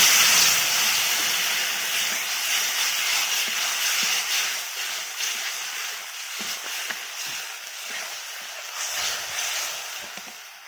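Water from ground gandal leaves poured into a pan of hot fried spices, a loud steady hiss and crackling sizzle that holds strong, then eases gradually as it settles, with no voices.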